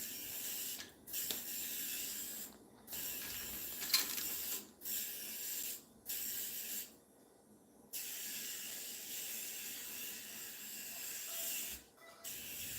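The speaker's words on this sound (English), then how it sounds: "Mango absolutely loves this grinder. I think it feels really good on his toes. He loves the vibration." A nail grinder whirs on a pet's toes in short close bursts of high buzzing, stopping and restarting several times with brief quiet gaps between.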